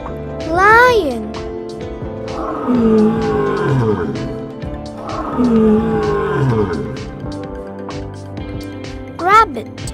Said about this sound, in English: Lion.